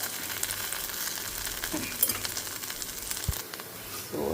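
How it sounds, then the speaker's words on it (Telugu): Pieces of taro root (chamadumpa) fry in a pan with a steady, close sizzle, broken by a few soft stirring scrapes and clinks, with no voices. "చూడండి ఇలా వేయకుండా చక్కగా ఫ్రై అవుతుంది"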